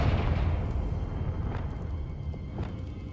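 Confringo fire-blast spell explosions from the video game Hogwarts Legacy: a steady low, roaring rumble with a couple of sharper bursts blooming out of it, loud and continuous for about three seconds.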